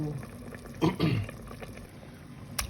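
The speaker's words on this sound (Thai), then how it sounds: "น้ำเดือดแล้วนะคะ" Water bubbles and simmers steadily in a pot close by, with a couple of louder gurgling surges partway through.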